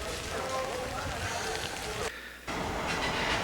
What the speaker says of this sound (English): a nighttime tram ride home and to bed